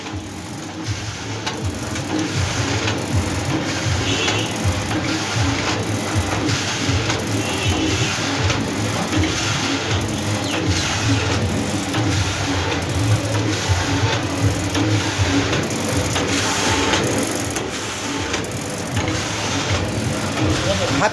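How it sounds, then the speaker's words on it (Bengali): An automatic Pepsi candy cutting and packing machine runs close by, giving a steady, dense mechanical clatter with a fast repeating rhythm that continues without a break. "এসব ঝাড় পেপসি কাটা মেশিন, এটা অটোমেটিক মেশিন।"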